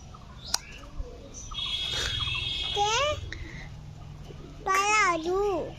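High, wavering squeaky calls from a pigeon chick, a few rising-falling cries in short bursts, close by, with a child babbling quietly in between.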